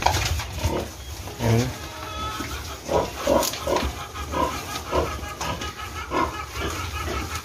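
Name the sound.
pigs grunting while being fed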